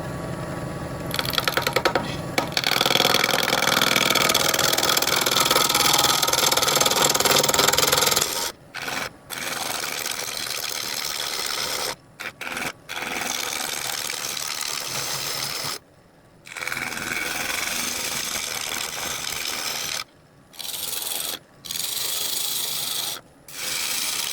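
A wood lathe hollows out the top of a crabapple wood bird's-mouth vase. Loud, steady scraping and rasping from the cutting tool fills the first part, then comes in repeated bursts broken by short pauses.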